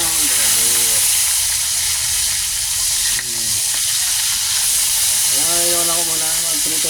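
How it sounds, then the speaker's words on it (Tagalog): Tilapia and pork chop frying in a pan give a steady, close hiss and sizzle throughout, with a voice talking over it at the start and end. "ngayon ako muna magprito ng tilapia. Ng tilapia ng pork chop."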